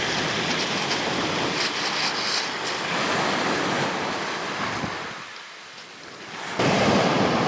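Waves lap and wash along a shoreline in strong wind, a steady loud roar of surf and gusting air that dips briefly near the end before surging back, with no voices.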